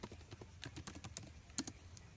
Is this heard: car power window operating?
no